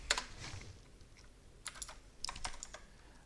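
Quiet, close-up tapping on a computer keyboard comes in short clusters of keystrokes separated by brief pauses.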